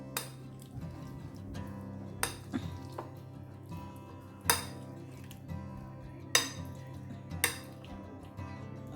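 A spoon mixes smoked paneer tikka in a pan, with sparse metallic clinks and clanks spaced a second or two apart over a low steady hum.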